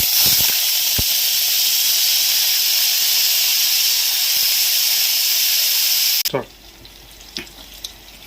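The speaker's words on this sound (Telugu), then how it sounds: "అదే ఆయిల్లోనే ఈ రొయ్యలు కూడా కడిగి పెట్టుకున్న రొయ్యలు ఫ్రై చేసుకోవాలి" Washed prawns frying in hot oil left over from frying eggs, a loud steady hiss and sizzle for about six seconds before it cuts out abruptly, leaving faint clinks and quiet handling sounds.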